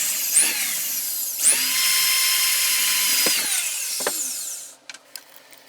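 A drill whines as it bores a small set-screw hole in a wooden knob for a 1947 Papa-Radio P.R.6 radio, spinning up in a few sharp starts, then stopping with light clicks.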